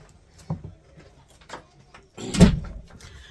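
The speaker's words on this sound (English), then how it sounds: "Let me close this door." A room door is pushed shut at home, with a few faint shuffles and handle noises leading to one close, solid thud near the end.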